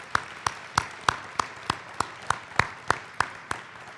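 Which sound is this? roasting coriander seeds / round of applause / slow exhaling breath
round of applause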